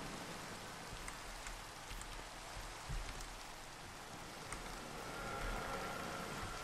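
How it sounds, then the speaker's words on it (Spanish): Steady Minecraft rain hisses evenly throughout, a dense wash of patter with a faint low thump near the middle. "Está lloviendo"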